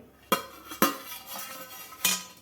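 Freshly fried khari sev lifted from hot oil onto a plate, heard as three sharp metallic clinks and knocks of a utensil against the dish, spaced irregularly and fairly close, with no one speaking.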